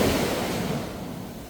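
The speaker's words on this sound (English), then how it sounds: "you literally walk onto the beach here" Ocean waves roll in at a beach house in Phetchaburi, Thailand, a steady broad wash of surf that stays close and fairly loud, fading slightly over the short stretch with no voices.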